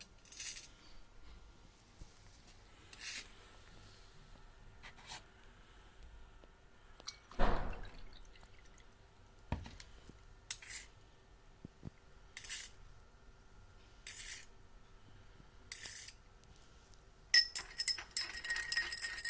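Repeated glassy clinks and scraping taps as sand is stirred in a glass beaker of water, spaced irregularly with a rapid burst of clinking at the end.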